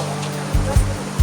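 Steady rush of clear river water flowing past a riverside picnic spot, a broad even wash with a few brief louder surges, no voices.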